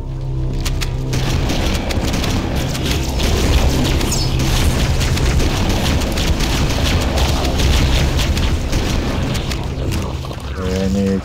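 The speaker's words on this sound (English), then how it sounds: "I'm getting tossed around by these goddamn explosives" Loud, continuous explosions and rumbling blasts in the first-person shooter Halo: Combat Evolved, layered into a dense chaotic roar lasting throughout with some mechanical clatter mixed in.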